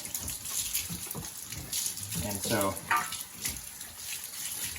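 Water runs steadily from a hose or tap to back-flush homestead milking equipment, a continuous splashing gush with a person speaking briefly over it.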